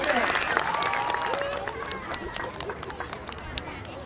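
Crowd applause for a volunteer at a youth baseball opening day ceremony in Westwood, outdoor clapping and cheering sustained at steady level with some voices mixed in, slowly thinning over four seconds.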